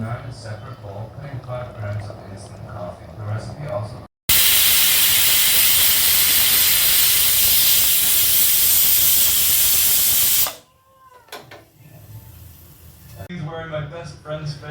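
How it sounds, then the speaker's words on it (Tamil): Pressure cooker loudly hissing steam while cooking vegetable pulao, a continuous broadband roar lasting about six seconds that cuts off abruptly, with talk before and after. "இப்போ 2 விசிலுக்கு ப்ரெஷர் குக் பண்ண போகிறோம்."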